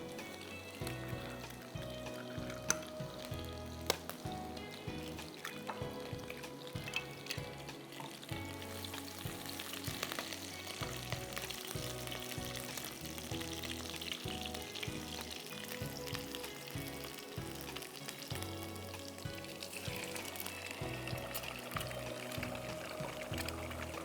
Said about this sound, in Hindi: जैसे ही गार्लिक हल्का सा ब्राउन होने लगेगा, हम इसमें डालेंगे अंडे।